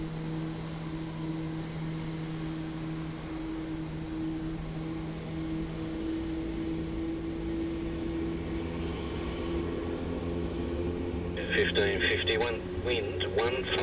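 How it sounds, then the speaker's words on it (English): A Jetstar A320 bound for the Sunshine Coast accelerates down runway 16 at Melbourne Airport, a steady droning engine roar with tonal whine under continuous talk, while radio chatter cuts in near the end. "As this Jetstar A320 heading off to the Sunshine Coast now speeds up on a runway 16."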